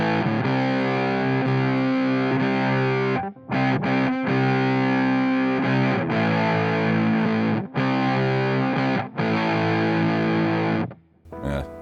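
An electric guitar through a Tonebender fuzz pedal plays sustained, thick, buzzing distorted chords with a few brief gaps between strums, loud and saturated, ending on a fading tail with no voice.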